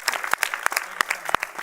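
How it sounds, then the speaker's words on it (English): A small audience of friends and family claps after a stage performance of the drama The Outsiders, a brief run of quick, uneven claps from a handful of people close by, with no voices. "You guys can get a round of applause, for you guys."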